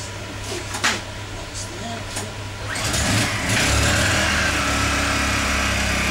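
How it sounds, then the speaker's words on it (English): A Honda EU10i inverter generator runs nearby with a steady, buzzing engine drone that grows louder and fuller about halfway through, then holds a constant tone. "this time we're going to use a U10i inverter generator"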